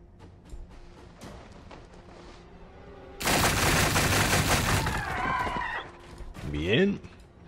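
Tyranid units open fire in Gladius Relics of War, a loud dense volley of organic gunfire lasting about two seconds, followed by squealing creature-like shrieks and a final burst, with game sounds underneath.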